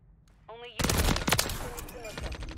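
Loud bursts of automatic gunfire in a Call of Duty Search and Destroy match on the Terminal map, rapid and close for about two seconds after a short tonal game sound, with a voice briefly audible amid the shooting.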